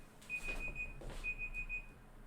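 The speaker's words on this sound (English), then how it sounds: "Oh, alarm again?" An alarm goes off in two repeated bursts of thin, high electronic beeping, each lasting about half a second, fairly quiet and close with no voices over it.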